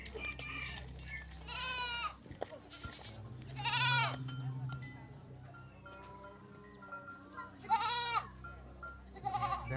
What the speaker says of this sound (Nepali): रानी, यो सबै खसी बाख्रा छन् नि